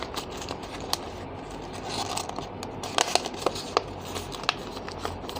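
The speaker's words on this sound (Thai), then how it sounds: "พับเก็บสี่มุมเลยค่ะ ค่อยๆพับนะคะ" Sheets of paper crease and rustle as a paper box is folded and its four corners tucked in, with soft scraping and a string of sharp crinkly snaps close up, no talk.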